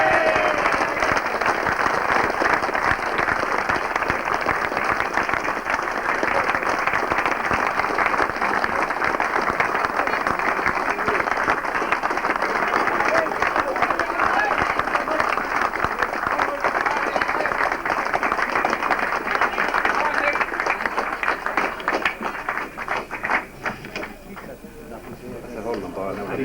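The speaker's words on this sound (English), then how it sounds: "you will give a very round, warm applause for Michael Shea" Sustained, dense applause from an audience at a 1991 GAA awards ceremony in Carrick-on-Suir carries on steadily for over twenty seconds, then thins toward the end as a voice begins to speak.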